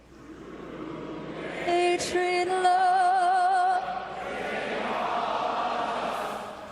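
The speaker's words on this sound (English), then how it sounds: "That's the sound of thousands of Buffalo Sabres fans in Buffalo jumping in this week to sing the" A large stadium crowd of Buffalo Sabres hockey fans in Buffalo sings the national anthem in unison, a swelling chorus of many voices with a sustained instrumental tone rising above it.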